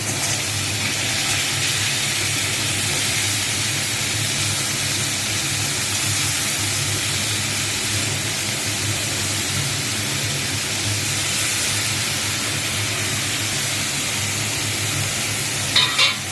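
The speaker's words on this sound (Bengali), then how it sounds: "এঁচোড়টা দিয়ে এবার ভালো করে মা এটাকে ভাজবে" Raw jackfruit fries in a pan with a steady, even sizzle and hiss that continues without a break, and a couple of small clinks come near the end. No one speaks.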